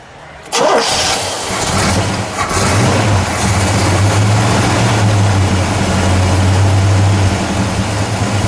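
A 1969 Pontiac GTO Judge with a 4-speed fires up with a sharp catch, then settles into a loud, lumpy, rumbling idle with slight swells of revving, close by.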